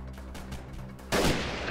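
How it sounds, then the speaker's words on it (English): Sharp gunshot from a weapon in the video game Freeman: Guerrilla Warfare, a single loud crack bursting in late after a quieter stretch of ambient game noise. "I just shot that guy in the back"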